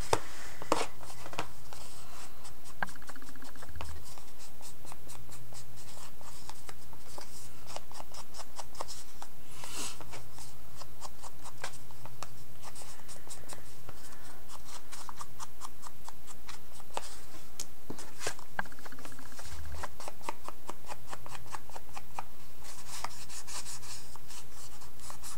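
Book-page paper pockets having their edges distressed for a vintage look: continuous close scratchy rubbing and scraping with quick repeated strokes and occasional sharper ticks, steady throughout with no talk.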